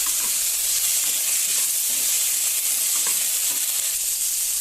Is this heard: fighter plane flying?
no